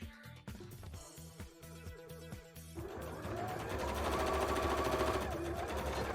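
A sewing machine top stitching a bra band runs in short bursts of rapid needle clatter, then settles into a longer, steadier whirring run, close and moderately quiet.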